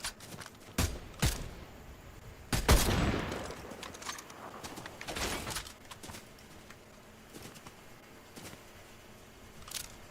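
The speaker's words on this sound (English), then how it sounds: "Oh, there's firing over here too." Gunfire in a shooter video game: scattered sharp shots and short bursts, a few loud and near, others fainter, separated by quieter gaps with faint movement sounds.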